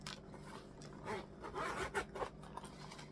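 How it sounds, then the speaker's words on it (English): Zipper on a Vera Bradley bag pulled open in several short, close rasping strokes, quiet and crisp with brief pauses between pulls. "And it zips all the way down on both sides."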